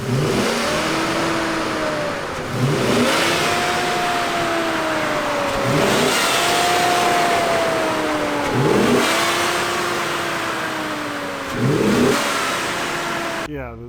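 A beat-up daily driver's engine revs repeatedly toward 4,000 rpm in neutral before a mud run, rising and falling in four or five loud, close sweeps with a steady idle rumble between them.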